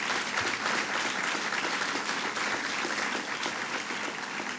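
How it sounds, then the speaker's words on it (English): An audience at a governor's funding announcement gives the mayor a round of applause, dense sustained clapping throughout at steady loudness. "Let's give her a round of applause."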